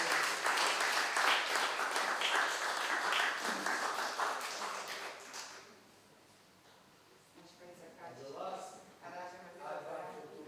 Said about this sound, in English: I can accept the applause.